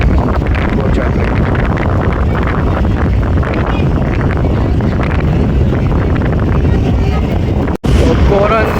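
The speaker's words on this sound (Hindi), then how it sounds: "काफ़ी तेज़ हवा जिस तरह आंधी है" Loud, gusty wind roars across the microphone without a break, with a brief dropout near the end and faint talk beneath the buffeting.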